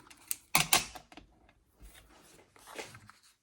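Card stock being cut with a paper trimmer while making a criss-cross greeting card, a few quiet close clicks and slides as the blade runs along, with soft handling rustles between.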